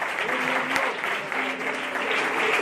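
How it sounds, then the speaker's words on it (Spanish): A church congregation claps steadily for a few seconds, a dense, even round of applause heard up close, with a faint voice and a sustained tone underneath. "Vamos a darle un aplauso al Señor y luego un aplauso de amor."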